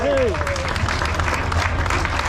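Crowd applause for the first Champions Choice winner at a Welsh truck show in Pembrey, a steady dense wash of clapping with a brief whistle at the start, continuous and fairly loud throughout.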